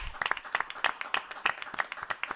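A small group at a town board meeting claps for state champion girls' basketball players, the scattered claps uneven and fairly close, with faint cheering tones mixed in.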